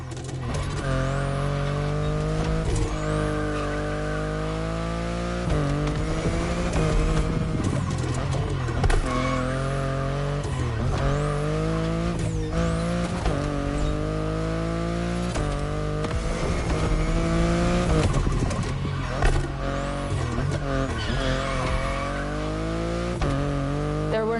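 BMW i8 sports car driven in the video game The Crew Motorfest, its engine note rising and falling through repeated gear sweeps, a loud continuous drone with rhythmic pitch climbs and shifts and no talking.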